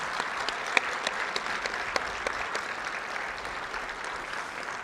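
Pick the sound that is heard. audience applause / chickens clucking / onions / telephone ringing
audience applause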